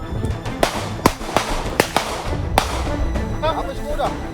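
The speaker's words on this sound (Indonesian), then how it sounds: "Kejar-kejaran serta tembakan peringatan polisi mewarnai penggerebekan" Several sharp police warning gunshots ring out at irregular intervals, loud and close, amid background commotion and voices during a drug raid on a riverbank in Medan, Indonesia.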